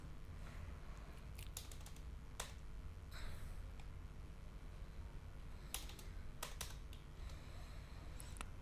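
Sparse keystrokes tap on a computer keyboard while a number is entered into an accounting sheet, faint clicks in short irregular clusters over a low steady room hum.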